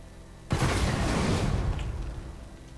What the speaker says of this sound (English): this one should also all merge together to form one explosion